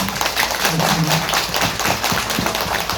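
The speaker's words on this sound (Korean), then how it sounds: "일단 우선 강연하신 우리 범선님께 큰 박수 부탁드립니다" A seated audience at a redevelopment lecture claps for the speaker, a close, dense round of individual hand claps at steady strength, with no talk over it.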